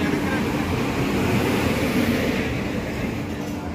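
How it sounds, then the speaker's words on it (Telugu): A train arriving at Villupuram Junction railway station in Tamil Nadu, heard as a steady, loud, broadband rumble that holds evenly from start to finish with no pauses. "మన ట్రైన్ వచ్చేసింది."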